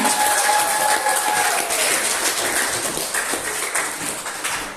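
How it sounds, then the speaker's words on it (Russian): Crowd claps throughout a diploma presentation at a village concert closing the season in Buzovyazy, a continuous broadband patter that slowly eases, with faint voices underneath. "Аплодисменты, дорогие друзья"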